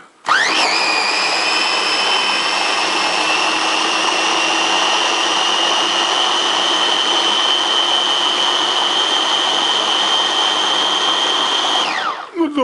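An 800 W RAF blender chopper chops tomatoes on its second speed, a loud, steady high-pitched motor whine with a constant pitch for about twelve seconds, spinning up at the start and winding down at the end; no talking.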